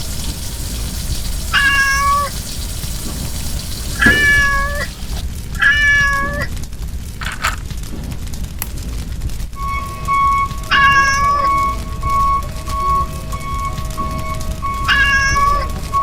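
A kitten meows in a cartoon fire truck rescue game: a series of clear, high meows in bursts of two or three, repeated across the clip over a steady low background hum.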